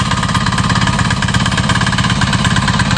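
A tractor engine ploughs a dry field, its loud mid-pitched chug throbbing in a fast steady rhythm close by, with no voices over it.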